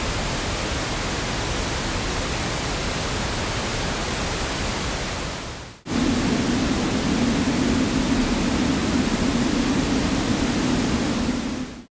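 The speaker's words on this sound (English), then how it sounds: "I'll play the noise without any modification and then follow it up with a certain frequency increased in amplitude again" Broadband synthesized noise plays steadily for about six seconds, cuts out briefly, then resumes with a single band near 250 Hz boosted, giving a hollow "oo"-like tone riding on the hiss.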